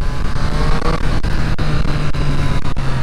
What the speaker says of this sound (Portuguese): a hora que você abre a mão, você sente um ronco, um torque, tudo junto aqui assim